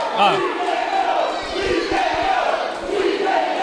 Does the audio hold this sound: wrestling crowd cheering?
yes